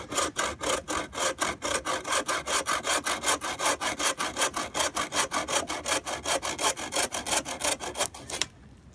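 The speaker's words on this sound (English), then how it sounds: "you're just going to saw just like you would saw a little tree cookie." A handsaw cutting a thin slice off a spruce branch, fast even back-and-forth rasping strokes, close and steady for about eight seconds before stopping abruptly.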